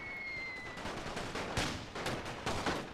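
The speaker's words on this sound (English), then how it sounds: "All the French now firing in a desperate attempt to keep the German assault at bay" French soldiers firing rifles and guns in The Great War: Total War WW1 mod at the Battle of Verdun, with irregular overlapping shots, some sharper and nearer, across a steady background din.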